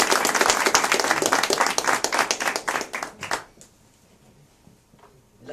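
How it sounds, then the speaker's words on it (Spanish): A church congregation gives a round of applause to the Lord during a Spanish-language service, brisk clapping from many hands, loud and even for a few seconds before stopping abruptly into near silence. "Démosle ese aplauso al Señor."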